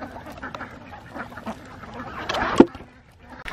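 Ducks kept with chickens in a wood-chip-covered yard give a few scattered quacks near and far, with one louder call standing out near the end over a low outdoor background.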